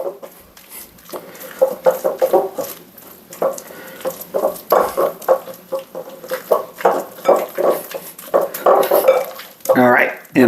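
Cheese and butter worked together in a bowl with a utensil, giving uneven clinks, scrapes and knocks against the dish; some voice sounds appear faintly around the clattering.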